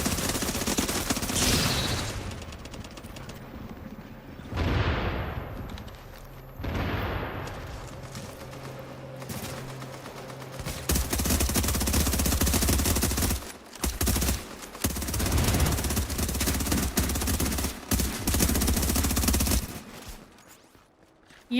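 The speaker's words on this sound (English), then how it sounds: "they're not even shooting anybody else but me" Enemies in Tom Clancy's The Division pour sustained gunfire on the player, with dense automatic bursts and rattling volleys that come in long waves. The shots are loud and close, with brief lulls between the bursts.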